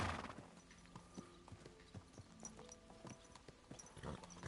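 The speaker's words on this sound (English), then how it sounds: "Well, where's my horse?" Horse hooves clip-clopping in a steady walking rhythm in the video game Kingdom Come Deliverance 2, quiet and fairly close, with no talk over it.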